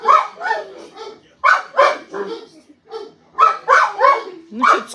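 A Cane Corso gives a run of short, yelping, half-howled barks in irregular bursts close by, each burst separated by brief pauses.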